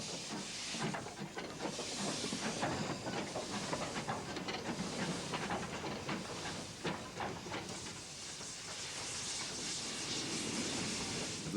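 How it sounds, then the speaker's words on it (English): Steam tank locomotive of the 284 class arriving with an eastbound mixed train up the valley on a southern European line: continuous hissing steam and rolling rail noise, with rhythmic chuffs and clanks, fairly loud and unbroken. "the 284 tank comes in with the mixed going east up the valley"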